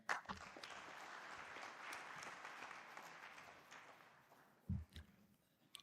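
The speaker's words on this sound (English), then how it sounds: "once again, a big round of applause to the author, T N Manoharan." Audience applause at a book launch event, a dense patter of many hands that holds steady, then fades and trails off with a few last claps, quiet and heard from a distance.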